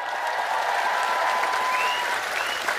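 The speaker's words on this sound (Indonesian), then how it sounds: "Sekhermania, tepuk tangan." Steady applause from the audience at a lively Islamic religious gathering (pengajian) in Taiwan, loud and continuous throughout, with a faint whistle-like tone riding over the clapping.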